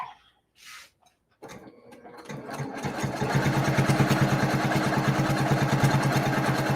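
A sewing machine stitches fabric. After a few quiet handling taps it starts, then settles into a fast, steady mechanical chatter that stays close and even for several seconds.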